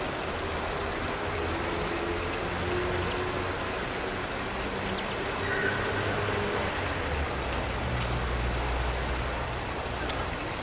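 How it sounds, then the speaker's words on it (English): Water flows steadily outdoors in Prague, a continuous broadband rush heard fairly loud, with faint rumble and a few distant sounds underneath. "I need the sound just of the water."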